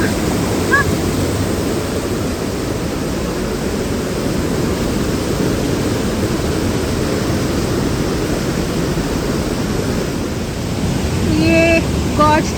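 A waterfall in the Watkins Glen State Park gorge gives a loud, steady, broad roar of falling water that fills the whole stretch. A brief voice is heard near the end.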